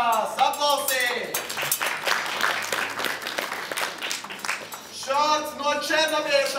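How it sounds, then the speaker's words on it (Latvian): An audience applauds a psychic finalist at a televised contest, with a dense burst of clapping between stretches of a host's loud announcing voice. "Aplausīt!"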